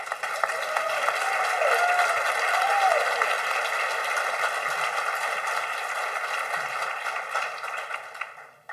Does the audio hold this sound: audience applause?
yes